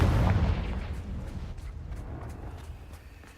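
A Confringo fire-blast spell goes off in Hogwarts Legacy: one loud booming blast at the start that decays into a rumbling tail with scattered faint crackles.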